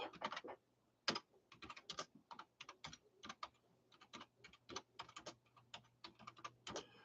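Clicky keystrokes on a computer keyboard come in quick irregular bursts and short runs with small pauses, close and fairly quiet in a still room.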